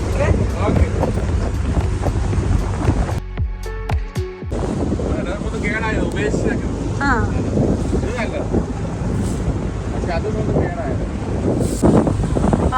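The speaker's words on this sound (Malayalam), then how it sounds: "അങ്ങനെ നമ്മുടെ ബോട്ട് യാത്ര തുടങ്ങിയിരിക്കുകയാണ്." A wooden dhow boat heads out to sea off the Doha Corniche in Qatar, with strong wind buffeting the microphone and a broad roar of engine and water, loud and continuous; people talk throughout.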